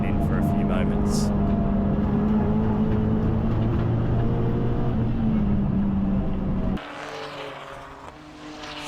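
The PowerTech Motorsport Evo 8, number 88, roars onboard during a production touring car race at Sydney Motorsport Park, its engine holding a loud steady drone before dropping sharply as the driver lifts off, with no speech.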